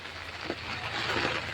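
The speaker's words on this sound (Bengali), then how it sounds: "এ দেখো বন্ধুরা বৃষ্টি পড়ছে এখন বৃষ্টি পড়ছে" Rain falls steadily on a market street in Katraj, Pune, making a continuous, fairly faint wash of hiss and patter with no one talking over it.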